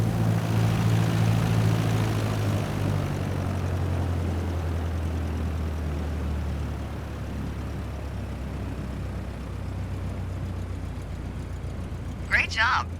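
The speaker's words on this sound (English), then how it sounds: "Now apply the brakes to slow us down and bring the plane to a stop." Propeller plane in Microsoft Flight Simulator 2020 rolling down the runway and braking after landing, a steady engine drone that drops lower and quieter partway through, with a short chirp near the end.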